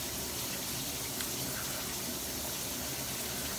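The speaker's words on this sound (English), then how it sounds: "I'm about to hop in this shower." A hot shower runs in a bathroom, a loud, continuous hiss of falling water that stays even throughout with no voices.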